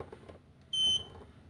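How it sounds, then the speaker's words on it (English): A MUSTOOL MT8206 multimeter gives its high voltage alarm, a single short, shrill electronic beep of about a quarter second, close by over low background noise. "And get that high voltage alarm once again."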